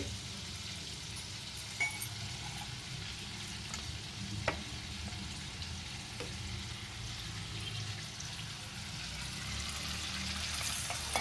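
Ginger frying in melted butter in a pan, a steady close sizzle running throughout with a few faint clinks of a utensil stirring, no voices.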